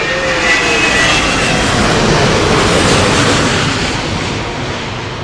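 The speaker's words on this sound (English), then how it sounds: "That's an ANA Dreamliner, which we interrupted Josh for." An ANA Boeing 787 Dreamliner jet roars loudly and steadily at an airport, a broad continuous engine rumble close by that eases slightly toward the end.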